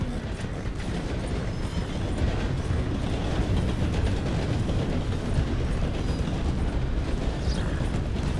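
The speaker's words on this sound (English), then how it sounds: "Apparently that train doesn't stop here." A train in the Red Dead Redemption 2 video game rolls past close by, a steady loud rumble with clattering wheels and metallic rail noise throughout, with no talking.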